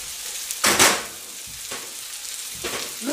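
Chopped onions and shallot hit a hot pan for a veal Marengo and sizzle in sharp bursts, with three louder crackling surges over a quieter steady frying hiss, close up and with no talking.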